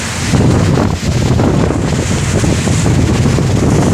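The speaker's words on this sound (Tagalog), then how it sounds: "medyo malakas pa nga ang alon mga idol" Strong wind roars across the microphone over the rushing wash of rough sea water on a fishing trip out at sea, loud and constant throughout.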